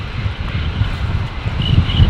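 A Qantas airliner arriving at Brisbane Airport on a windy day, its engine noise a steady low rumble with wind buffeting the microphone.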